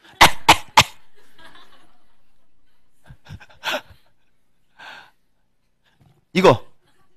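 Three sharp, loud coughs in quick succession at the start, followed by quieter breathy sounds and a short burst of voice near the end.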